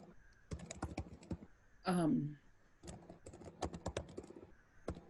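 Rapid clicking of computer keyboard keys in irregular bursts, close and fairly quiet, broken by a short voiced sound partway through, with faint talk in the background.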